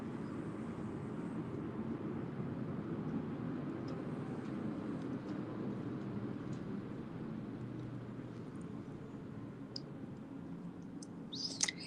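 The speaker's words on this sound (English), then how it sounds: "Another plane." An airplane flies overhead as a steady, broad low rumble that holds for the whole stretch, with a few faint clicks and a small bird chirp near the end.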